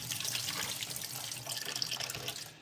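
Milky rinse water from rice being washed pours steadily into a sink, a continuous close splashing trickle with no talk.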